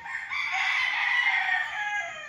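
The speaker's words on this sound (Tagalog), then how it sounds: "dito pala nagtitrain sila ng mga manok" Gamecocks at a small training pit on a game farm in Liliw, Laguna crow loudly and close, one long sustained call filling the moment with no voices.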